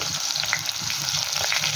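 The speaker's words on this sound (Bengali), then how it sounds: "সমস্ত কিছু ভালো করে একটু ভেজে নেব" Tomato, green chilli, ginger and cumin fry in hot mustard oil with a steady, close sizzle, broken by soft low thumps of stirring throughout.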